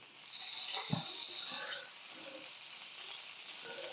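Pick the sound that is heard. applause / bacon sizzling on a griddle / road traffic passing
bacon sizzling on a griddle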